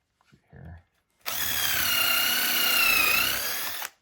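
A power drill whirs for a couple of seconds, its pitch steady then dipping as it pre-drills into butcher block countertop wood, after a brief short burst.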